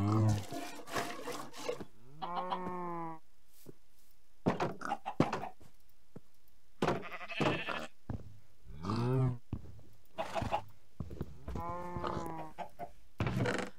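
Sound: cow mooing while being milked in video game Minecraft

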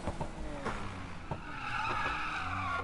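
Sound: car e-brake drifting in Need for Speed video game

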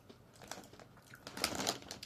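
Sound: crunching bacon-flavoured Top Chips potato crisps

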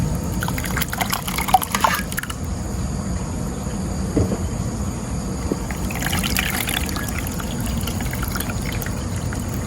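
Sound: pouring coconut milk (santan) for kuih lapis

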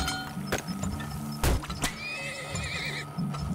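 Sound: horse neighing and hooves in the video game Turmoil

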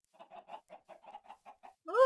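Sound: chickens clucking in Minecraft video game

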